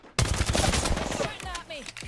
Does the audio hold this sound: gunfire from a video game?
yes